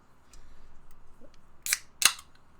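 A pink can of carbonated water is cracked open near the mic: two sharp, close clicks with a short fizzy hiss, alone over faint background noise.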